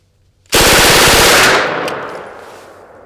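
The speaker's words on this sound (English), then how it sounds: "it's still a very soft shooting, very controllable, very easy to run, and comfortable submachine gun" A single loud burst from an MKPS submachine gun at a shooting range, a rapid string of shots lasting about a second and then a long reverberant tail that fades away, with no voices.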